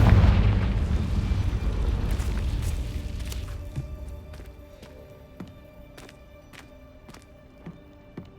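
A Confringo blasting spell detonates in Hogwarts Legacy: a deep, booming explosion that rumbles and fades over several seconds, followed by scattered faint clicks and pops.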